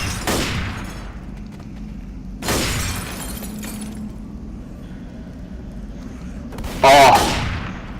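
Gunfire in the Left 4 Dead video game, three loud separate booming shots spaced a few seconds apart, each with a decaying tail. A player talks between them.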